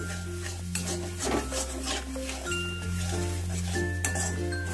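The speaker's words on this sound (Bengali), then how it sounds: "দিয়ে কয়েক সেকেন্ড একটু এটাকে মিশিয়ে নেবো ভালো করে।" A spoon scrapes and clinks against a pan while cauliflower roast is stirred over a low gas flame, with soft intermittent metallic taps close by over a steady low kitchen hum.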